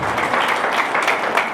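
A church congregation applauds together after a sermon, producing a steady, dense wash of clapping at full volume throughout, with no individual voice standing out.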